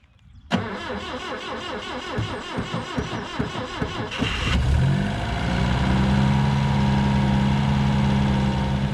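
An old car's engine starts with a rapid burst of cranking, catches and settles into a steady, close, loud idle that runs alone to the end.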